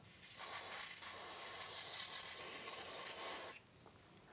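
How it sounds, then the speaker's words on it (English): Contact cleaner sprayed from an aerosol can into an Amiga 600 connector: a steady, close hiss lasting about three and a half seconds, then a cutoff and a small click, with no talk. "I'm also going to spray some contact cleaner into the connector here."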